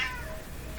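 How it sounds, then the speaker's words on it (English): A house cat gives one short, quiet meow right at the start, which trails off into a soft room hum. "And here comes my cat again."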